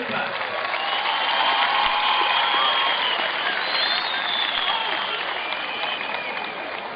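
Crowd applause at a live show, a continuous, even patter of many clapping hands lasting about seven seconds, with a faint voice or whistle drifting over it midway.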